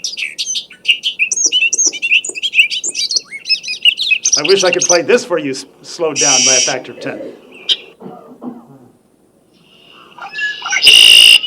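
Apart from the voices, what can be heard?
red-winged blackbird song recording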